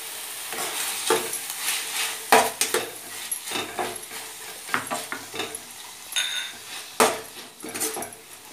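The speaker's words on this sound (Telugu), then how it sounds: "ఈ మగ్గిన పాలకూరలో మనం ముందుగా సిద్ధం చేసి పెట్టుకున్న స్వీట్ కార్న్ వేసుకుందాం" Sweetcorn is stirred into wilted cooked spinach in a pan as a samosa filling: a soft sizzle under repeated spoon scrapes and light metallic clinks in an uneven rhythm, close and fairly loud.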